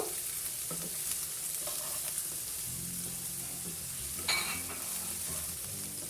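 Chopped onions and garlic frying in oil in a pan for drumstick-flower bhaji, a continuous crackling sizzle with occasional scrapes and clinks of stirring, no speech.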